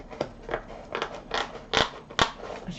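Scissors snip and crunch through a cardboard box in a quick series of about six rough cuts, close and fairly quiet, with no talking.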